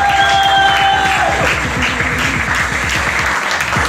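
Loud, sustained applause from a gala audience at Casino Partouche in Salies-de-Béarn, honoring a 14-year-old future champion, dense clapping with a few cheers, a tonal musical swell fading early.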